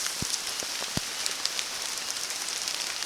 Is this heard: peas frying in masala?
no